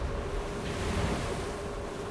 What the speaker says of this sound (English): Waves going over us, which is impeding our vision to see if we hit or not.